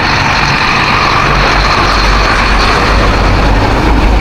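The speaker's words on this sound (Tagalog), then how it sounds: "Malapit ang mga sasakyan na to." Road traffic, trucks and cars, rushes past close by as a loud, continuous roar and rumble with no break and no voices.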